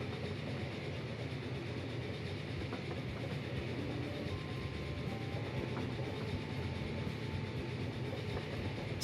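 A steam train in Transport Fever 2 rolls along steadily, a continuous rumble with faint rail clatter and a brief tonal squeal partway through, heard alone at moderate loudness.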